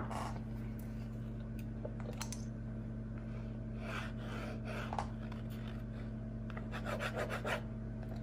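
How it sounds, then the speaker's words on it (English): Scratchy lines are dragged into an abstract painting in short rasping strokes, a series of brisk scraping bursts over a steady low electrical hum, with no talking. "So let's say I wanted to add some scratchy lines to this as well."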